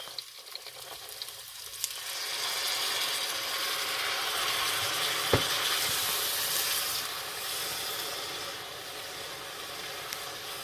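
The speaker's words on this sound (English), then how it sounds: "so that all those spices can just sizzle down there" A loud, continuous crackling sizzle of spices frying in a hot pan, close and steady, with occasional scraping clicks from stirring.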